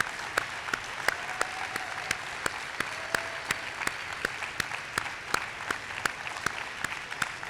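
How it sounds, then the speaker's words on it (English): Audience applause at a college basketball jersey retirement ceremony, a steady wash of clapping from a large crowd with sharp individual claps standing out, continuous and fairly even throughout. "stand up and give them a round of applause,"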